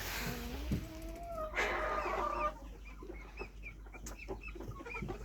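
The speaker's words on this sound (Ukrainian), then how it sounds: "дивіться, яка розумна курка. Ти за мною йдеш, ще й співаєш." A chicken clucks in short repeated bursts at close range, with a few brief higher calls amid light background rustle.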